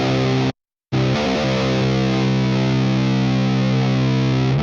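Electric guitar through a high-gain amp model on a Quad Cortex modeler: a loud, heavily distorted chord that cuts out briefly, then sustains thick and saturated without talk.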